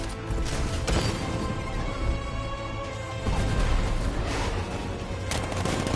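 In the video game Batman: Arkham Knight, the Batmobile's riot suppressor fires a dense, sustained barrage of rapid gunfire, loud and close, roaring continuously for several seconds.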